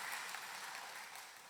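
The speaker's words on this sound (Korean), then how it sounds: "우리 다 같이 박수로" Church congregation clapping together during a Wednesday worship service, a brief, even burst of many hands that is soft and slightly distant, with no voices.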